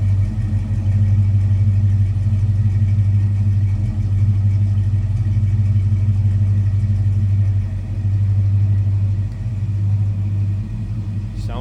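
A 1970 Plymouth Road Runner's engine idling close by, a loud, steady, deep rumble with an even low throb that barely changes throughout.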